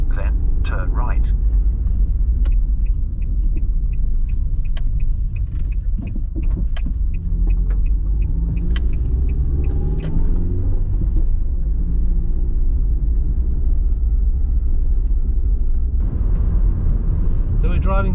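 A car drives through the village of Winster in the Peak District. Its engine rumbles loud, steady and close throughout, with a person talking over it.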